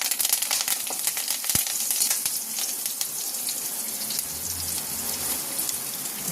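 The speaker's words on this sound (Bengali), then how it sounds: "তো আগে আমি ফোড়ন দিয়ে নিই। দুটো শুকনো লঙ্কা দিলাম," Dried red chilies and curry leaves crackle and sizzle in hot oil for a vegetarian dal tempering, a bright, continuous spattering hiss with a few sharp pops, close and without speech.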